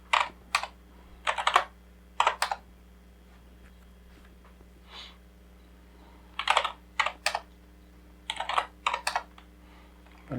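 The ifconfig command being typed on a computer keyboard, several short bursts of close key clicks separated by pauses, with no talking.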